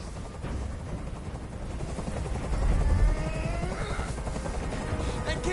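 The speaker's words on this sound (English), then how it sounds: "Tell that helicopter to get out of here." A helicopter hovering in the video game Detroit Become Human, with a steady loud rotor chop and whine that swells slightly midway, with faint gunfire-like bursts.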